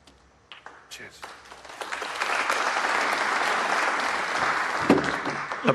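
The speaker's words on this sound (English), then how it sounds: "Appropriate applause." An audience applauding at a British Open 2023 snooker match, the clapping building from quiet into a sustained, dense ovation that fills the room, with a voice briefly heard over it at the start.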